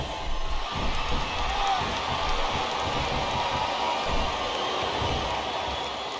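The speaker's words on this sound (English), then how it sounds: "Sounds like this crowd's got something on their minds" Crowd noise fills a WWE wrestling arena during a mixed casket match at Armageddon: a steady, dense roar of many voices with scattered shouts, continuous and fairly loud throughout.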